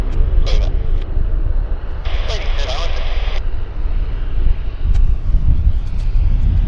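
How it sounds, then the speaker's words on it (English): A Boeing 787 climbs out from runway 26 left at Vancouver airport, a broad low jet roar under steady wind rumble while people talk nearby over it. "We've got 787 climbing out"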